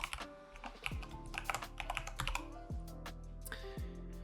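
Computer keyboard keys tapped while a password is entered, a quick irregular run of clicks and clacks close by, alone with no talk.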